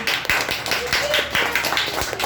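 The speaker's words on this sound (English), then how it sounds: "So next we have with us clap for Ritik." A school audience at a public speaking competition claps as the next student is called up, a brisk, dense patter of hands with people talking over it.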